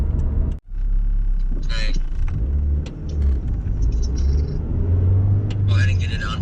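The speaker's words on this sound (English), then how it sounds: "car going down the road here" A Saturn SC2 car driving down the road, heard from inside as a steady engine rumble and road noise with a brief dip near the start, while someone speaks briefly.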